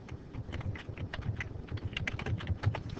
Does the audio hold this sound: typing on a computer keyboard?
yes